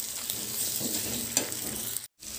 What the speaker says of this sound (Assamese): এতিয়া এইখিনি আকৌ অকণমান সময় ভাজি ল'ম।